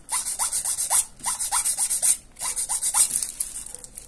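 Light filing of a polygel nail with a nail file, quick regular back-and-forth rasps in short bursts with brief pauses between, close and fairly loud.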